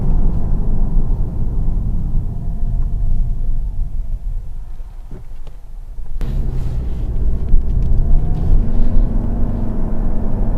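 A 2025 Toyota Camry accelerating, heard from inside the cabin as a steady low engine and road rumble that shifts slightly partway through, fairly loud with no talking.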